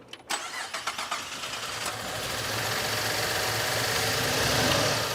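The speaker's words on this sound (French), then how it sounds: "Entends-tu le moteur qui va vraiment mal?" A car engine running badly cranks with a few sputtering bursts, then catches and runs roughly with a rising, uneven rumble, loud and close with no talking.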